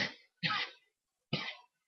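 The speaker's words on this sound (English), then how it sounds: "Sorry, cough." Three short, dry coughs from one person, close and fairly quiet, spaced irregularly with silence between them and no other sound.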